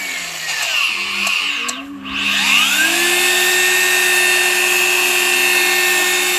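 A power sander grinds an oxidised car headlight, giving a steady, loud motor whine with a high abrasive hiss that dips briefly near the start before settling into a continuous drone.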